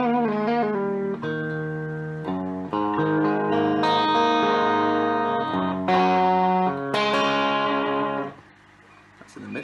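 Inexpensive electric guitar played through its middle pickup, strummed chords and picked notes ringing with effects and some distortion, loud and close, fading to a quiet tail at the end.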